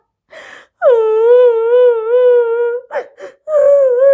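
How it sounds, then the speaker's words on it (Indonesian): A young child wails loudly in a storytelling scene, one long sustained cry followed by a few short gasping sobs and then another wail beginning, close and alone with no talk over it. "Mendengar pertanyaan ayah, tangisan Rudolf makin kencang."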